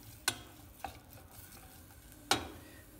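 Kofta and onion fry in a pan under a constant low sizzle, broken by three sharp scraping stirs of a spoon against the pan.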